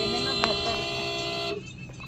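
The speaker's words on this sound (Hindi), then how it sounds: "हॉर्न देने ना बेहतर" A steady, sustained car horn blares for about one and a half seconds on a curving mountain road near Islamabad, then cuts off, leaving quieter road noise.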